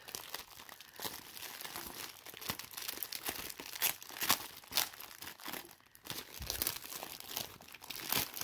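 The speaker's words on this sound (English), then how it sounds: "So let me carefully pull them off the tape." Earrings being peeled off strips of tape stuck to the lid of a container, giving close, continuous crinkling and crackly tearing with small irregular bursts throughout.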